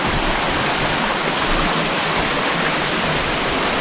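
A steady, full roar of rushing water, like a waterfall pouring nearby, loud and unbroken throughout with no voices.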